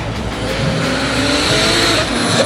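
A drift car at Mt Smart Stadium, Auckland, roars loudly as its engine strains and tires screech in a continuous, dense wash of motor noise and squeal, with no speech over it.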